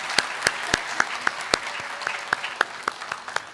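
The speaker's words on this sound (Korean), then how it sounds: "우리 다시 한번 박수로 축복해 주시기 바랍니다." A church congregation applauding during a Christmas worship service, heard as steady, fairly sparse claps with distinct individual hand strikes in a loose rhythm, moderately close and lasting a few seconds.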